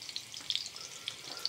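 Hotdogs fry in a pan with a quiet, crackling sizzle, and sharp pops scatter irregularly through the sound.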